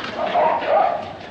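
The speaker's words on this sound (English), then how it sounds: "Jimmy, will you let go of that dog's tail?" A dog yelps sharply as its tail is pulled, giving a short pair of pained, whining cries close by.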